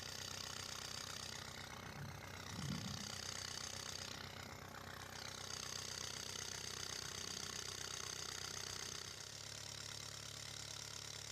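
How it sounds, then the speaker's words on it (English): Steady mechanical drone of an agitator mixing resin inside a Rhino Linings drum, a continuous ratcheting, engine-like whir heard alone at a constant level for the whole stretch. "Be sure to turn on the agitator on the resin drum to mix 1 gallon per minute."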